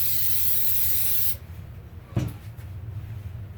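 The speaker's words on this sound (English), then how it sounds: "my spray glue." Spray glue hisses from an aerosol can onto sheets of game cards in one close, steady burst lasting over a second, followed by a sharp click and quiet handling.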